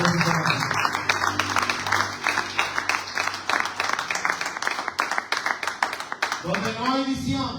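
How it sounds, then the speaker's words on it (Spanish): Congregation applauding during a Sunday church service: dense, steady clapping for several seconds, with a sustained low tone and voices underneath, fading out near the end. "Un fuerte aplauso al Señor."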